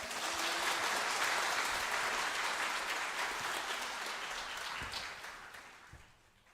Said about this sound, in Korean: 하나님께 영광의 박수 올려드릴까요?